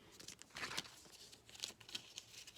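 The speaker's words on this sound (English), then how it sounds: "Now I'm going to shuffle the cards." Paper cards being shuffled by hand at close range during a math lesson, a few quick bursts of crisp riffling and crinkling separated by brief pauses, fairly quiet.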